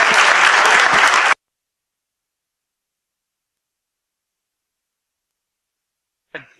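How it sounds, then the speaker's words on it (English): Audience applause at a BSides security conference talk, a loud burst of clapping from the crowd that stops abruptly after about a second, followed by silence and a brief faint sound at the end. "let's give a BSides round of applause to Matt."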